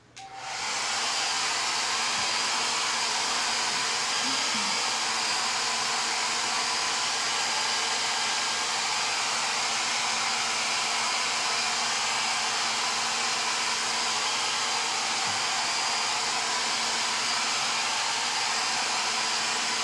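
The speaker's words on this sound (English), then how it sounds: "hair dryer, and we can dry off the chalk paste" A blow dryer runs steadily for the whole stretch, drying chalk paste on a Chalk Couture craft piece. It is a loud, constant close-up hiss and whir that starts abruptly and carries on without a break, with no talking.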